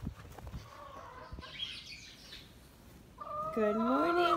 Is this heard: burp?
no